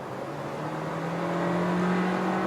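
A Hyundai Kona N Line 4WD in sport mode kicks down, its engine note rising in a steady whirring drone that builds slightly louder over a couple of seconds, heard from inside the car without talk.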